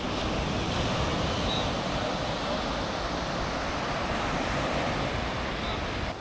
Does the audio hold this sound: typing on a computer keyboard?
no